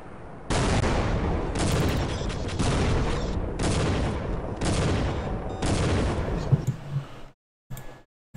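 Video game gunfire and explosions: dense, roaring blasts in several long bursts, loud and continuous, breaking off near the end into brief gaps and a final short burst.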